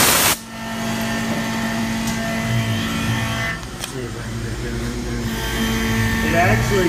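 A machine cutting a chamfer on the back side of a metal frame in a shop, heard as a steady, loud motor whine with a buzzing tone that dips briefly midway, then continues evenly.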